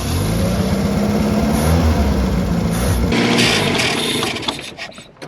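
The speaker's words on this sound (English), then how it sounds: "No way, she just fired right up." Engine of a 1980s Mazda truck left abandoned for 30 years catching and revving, a loud close roar that rises and holds before dropping away near the end, with no talking.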